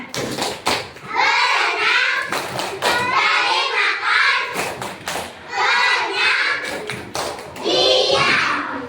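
In a classroom, children chant and clap in a rhythmic fish-clap game, repeated bursts of taps and thumps in short patterned phrases, their voices loud and close.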